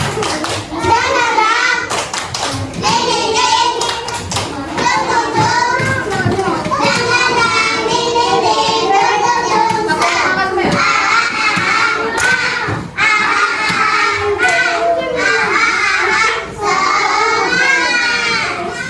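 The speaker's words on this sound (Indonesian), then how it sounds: "Ayo semuanya tepuk semangat terlebih dahulu" A first-grade class in Indonesia does a 'tepuk semangat' spirit clap, with loud rhythmic hand claps woven through the children's lively group chanting and voices, continuing throughout.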